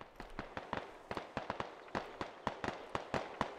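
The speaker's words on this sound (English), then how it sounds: "Mortars landing." Mortar rounds landing in the military shooter game Squad, a rapid string of sharp distant booms and cracks in an irregular rhythm, faint but distinct.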